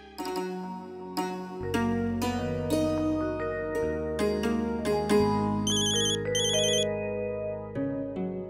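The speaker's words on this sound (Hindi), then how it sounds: "अंशु का फोन है।" A melodic electronic ringtone plays loudly and continuously, a repeating tune with bright chiming notes and no voices.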